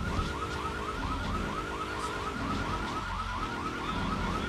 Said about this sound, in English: Holy car alarm, Batman